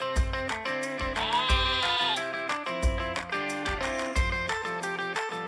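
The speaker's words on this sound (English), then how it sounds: "A baby sheep is called a lamb." A single wavering sheep bleat rises for under a second over a bouncy farm-animal music track for children, with steady drum beats and a plucked melody continuing throughout.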